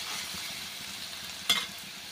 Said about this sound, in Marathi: आता कांदा छानपैकी परतला गेला आहे